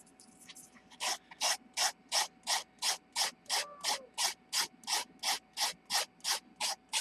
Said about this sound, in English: I'm going to sand, but I won't have to sand forever because I trimmed it